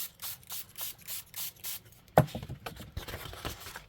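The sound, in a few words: spraying water onto paper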